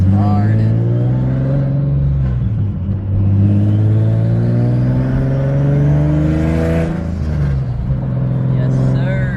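A loud tuned Nissan 350Z sports car engine revs up and down repeatedly, deep and rumbling, close by, with its pitch rising and falling in waves.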